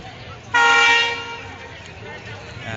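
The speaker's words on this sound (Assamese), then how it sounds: "ট্ৰেইন আহি পাইছে এতিয়া।" Loud, close train horn blast of about a second as a train pulls into a station near Golaghat, Assam, fading into a lower tail over steady background noise.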